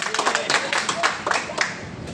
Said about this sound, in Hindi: शाबाश, बजाओ ताली का बस।